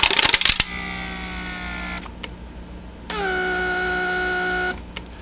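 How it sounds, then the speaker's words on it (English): A 1999 Mercedes S500 door locking vacuum pump runs in steady whining bursts, first after a clattering start and then again after a pause, each burst ending abruptly, close and moderately loud. "the pump created pressure and vacuum"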